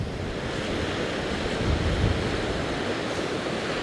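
Steady, heavy wind buffets the microphone on a seaside cliff, a constant roar mixed with crashing surf below, with no voices.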